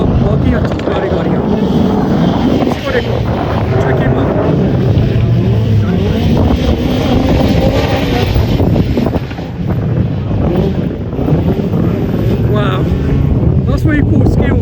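A Group B rally car drives past at the Race Retro event, its loud engine roar steady and close throughout, mixed with heavy wind buffeting on the microphone.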